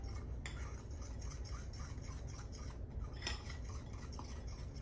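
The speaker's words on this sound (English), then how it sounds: "I'm gonna shortcut it and just mix these together with my fork." A fork mixes cinnamon, allspice and salt together in a bowl, giving faint, quick metallic clinks and scrapes in a soft, irregular rhythm against a quiet background.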